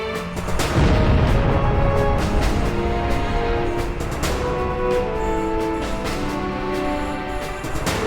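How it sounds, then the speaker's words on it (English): Missile launch in the Ace Combat Zero jet combat game: a loud rumbling whoosh bursts in near the start and holds as a sustained roar over steady in-game music and engine drone. "Missile launched."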